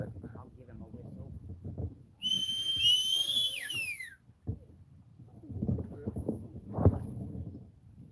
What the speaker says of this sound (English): I'll give him a whistle.